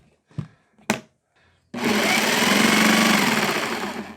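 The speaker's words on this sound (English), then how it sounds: "Probably just go for it with the jigsaw." Cheap Black & Decker jigsaw set to its PVC setting cutting through PVC, a loud continuous buzzing whine that kicks in after a couple of brief knocks and runs steadily to the end, close by.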